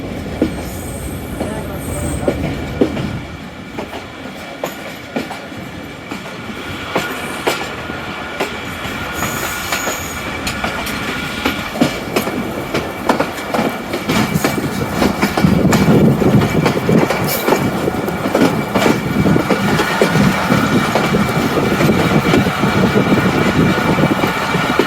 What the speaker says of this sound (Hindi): रावलपिंडी रेलवे स्टेशन के यार्ड में एंटर हो चुके हैं।